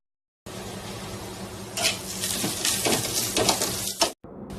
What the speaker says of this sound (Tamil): நம்ம ரெடி பண்ணி வச்சிருக்கிற அந்த மாசியை தட்டி நல்லா கிளறி விடணும்